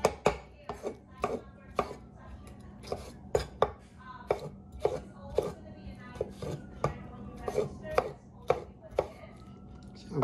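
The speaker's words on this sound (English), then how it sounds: "I went through that tomato nicely" A sharp knife chopping a tomato on a cutting board for a Filipino pork stew, with rapid, fairly regular close strikes throughout and a voice speaking faintly underneath.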